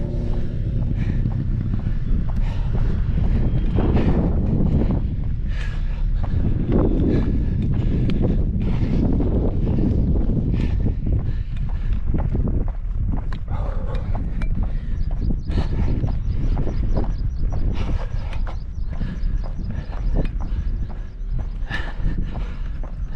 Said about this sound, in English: it's windy, you might not be able to hear me